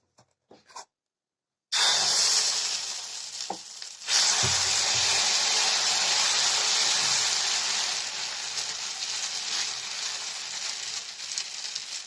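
Semiya dosa batter poured onto a hot pan bursts into a loud, steady sizzle after a few brief clatters, frying continuously and close by with no talking.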